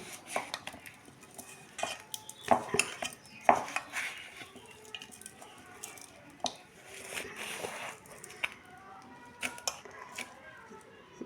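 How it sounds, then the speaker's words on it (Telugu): Oil poured over cucumber pickle ingredients with turmeric, cumin and garlic cloves, then mixed in a bowl, giving irregular scraping, clinking and squishing sounds, with louder knocks of the spoon against the vessel and a voice talking faintly between them. "ఇప్పుడు నూనె పోసి కలుపుతానండి"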